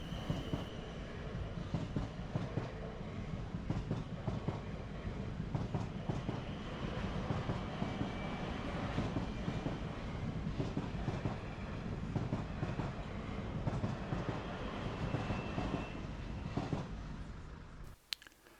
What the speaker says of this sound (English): This train's on its way to London.